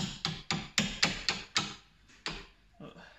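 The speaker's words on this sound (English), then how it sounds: "Might try and tap the washer actually" Hammer tapping a washer on an anti-roll bar bolt of a VW T4 van, a run of sharp metallic knocks at a steady rhythm, then a few slower, fainter taps, close by.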